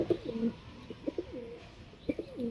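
Pigeons coo in soft, repeated low phrases, close by, with brief pauses between calls and a quiet background.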